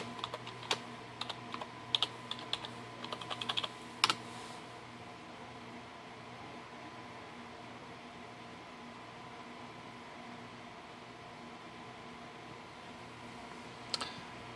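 A password typed on a computer keyboard during a Windows Server 2012 R2 setup: a quick run of key clicks in the first few seconds, then a long stretch of steady fan hum, and one last keystroke near the end, close and quiet.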